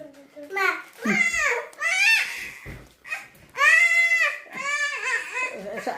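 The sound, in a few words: goat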